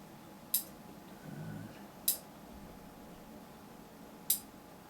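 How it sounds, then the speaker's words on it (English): Fine pointed scissors snip during fly tying, three sharp, isolated clicks spaced about two seconds apart over a quiet, faintly humming room. "And then we'll just get our scissors."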